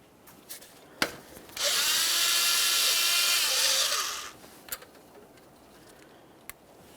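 A power tool spins off the 10mm mounting nut from the alternator wire on a 2012-2015 Honda Civic 1.8L I4: one sustained whirring burst of about three seconds, framed by a few sharp metallic clicks and taps.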